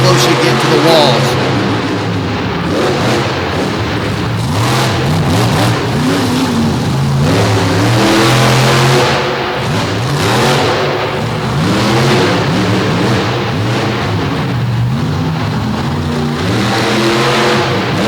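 Monster truck engines rev and roar continuously at an arena show in DuQuoin, rising and falling in pitch, close and loud, while an announcer talks over them.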